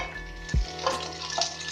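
Curry leaves and slit green chillies hit hot oil for an Andhra fish curry, giving a close, steady sizzle with a sharp crackling burst as they drop in. No one speaks.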